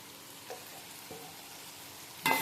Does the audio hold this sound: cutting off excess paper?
no